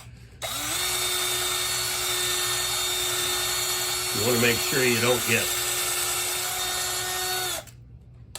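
A steady, loud drill whine runs throughout while drilling out a rivet on a Marx toy boxcar, with a brief burst of grinding, chattering bites partway through, while a person talks briefly.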